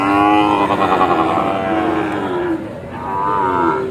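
Young Sahiwal bull calves, six to eight months old, at a cattle market give a long, loud moo that rises and falls, followed by a second shorter moo, close by with no talk.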